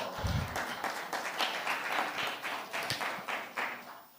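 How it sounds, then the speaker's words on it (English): Scattered clapping from a small conference audience as a speaker joins the stage, quick irregular claps at moderate volume, continuing steadily before tapering slightly. No voices. "Let's give Peter a round of applause."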